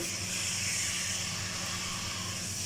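Chicken for white karahi sautés with white pepper in a loud, continuous hissing sizzle that holds steady throughout the short stretch.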